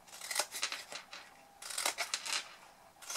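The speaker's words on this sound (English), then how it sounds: "And then we're going to cut these corners." Scissors snip the corners of a scored card box lid, a series of short crisp cuts in uneven bursts, close and fairly quiet, with no talking.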